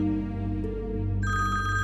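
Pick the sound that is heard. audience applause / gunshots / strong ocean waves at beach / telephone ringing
telephone ringing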